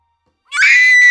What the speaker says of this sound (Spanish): Un grito ensordecedor resonó en la habitación